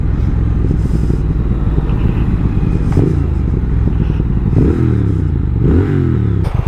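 A 2022 Triumph Speed Twin motorcycle being ridden hard, its engine a loud, steady low rumble with several rising revs as the rider accelerates and shifts, heard up close with wind noise.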